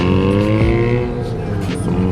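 Mazda RX-7s out on PCH give a loud, close engine note whose pitch glides smoothly, and a brief voice cuts in partway through.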